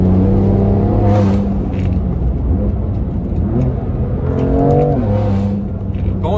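A BMW M2 Competition accelerates hard, heard from inside as a loud, sustained engine roar with rising revs that climb twice, a few faint voices underneath.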